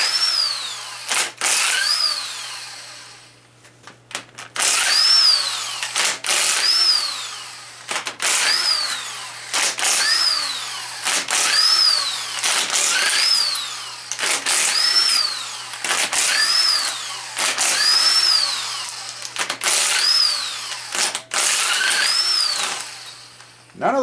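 A power tool repeatedly whirring in short bursts while loosening torqued bolts on a 350 Chevy engine, a steady rhythm of high-pitched spinning runs separated by brief pauses, close and loud throughout.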